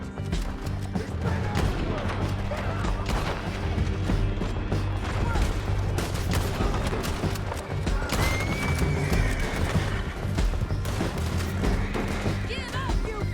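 Horses in the Red Dead Redemption 2 video game whinny amid galloping hooves, creaking and gunfire during a chaotic canyon chase, with shouted voices mixed into a dense, loud scene.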